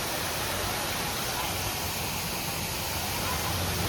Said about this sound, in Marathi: मिनी धबधबा.